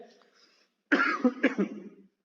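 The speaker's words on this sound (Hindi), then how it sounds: "थोड़ा खांसी आ जाती है कभी कभार" After a quiet moment, a person coughs in a short cluster of harsh, close bursts, then falls silent.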